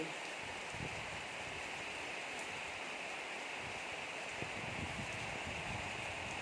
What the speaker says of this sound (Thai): ฝนตกนี่พี่น้องฝนตกบรรยากาศดีค่ะอากาศเย็นสบาย